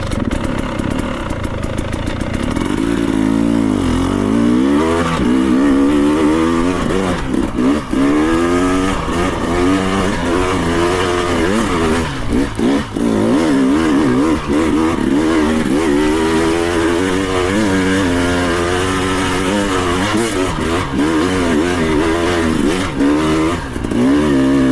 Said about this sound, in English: Hit it on the 2-stroke.